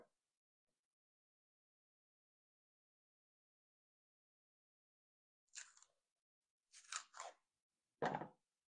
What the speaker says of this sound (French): on va couper du coup le chorizo en petits dés